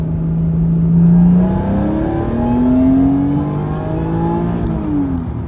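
A supercharged 1996 Acura NSX-T engine, warmed up to temperature, revs up in smooth rising sweeps, loud and close, with a steady throaty drone between the pulls.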